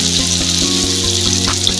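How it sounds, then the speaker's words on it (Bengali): Bitter gourd pieces fry in hot oil with a close, even sizzle and crackle that keeps going unbroken, no voices over it. "করলাটাকে আমি ভালো করে ভেজে নেব।"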